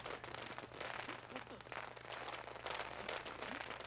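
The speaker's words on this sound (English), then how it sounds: "Don't mind all the fireworks going off." Fireworks crackle and pop in an Assassin's Creed game, dense rapid bursts running continuously at moderate loudness over a low steady hum, with speech faint underneath.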